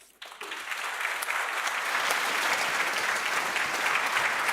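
An audience at an agricultural awards gala ceremony breaks into applause, swelling quickly from quiet to a dense, sustained roar of clapping that holds steady, close and unaccompanied by talk.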